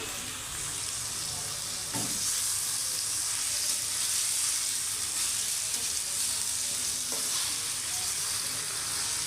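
Chicken fries in a pan with a strong, steady sizzle and hiss, broken by a couple of soft clinks as it is stirred.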